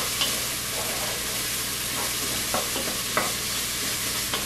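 Peppers cook in a pot with a dense, continuous sizzle, punctuated by a few faint scrapes of a spoon stirring, close and steady throughout.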